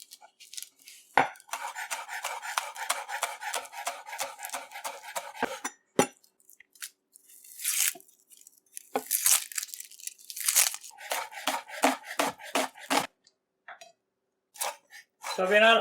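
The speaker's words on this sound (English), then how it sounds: "So we're gonna cut up our two broadleaf thyme now, or pudina, fresh as ever," A knife cuts fresh broadleaf thyme (pudina) for fried rice, producing bursts of rapid, crisp crunching strokes against a board with occasional clinks, separated by short quiet gaps.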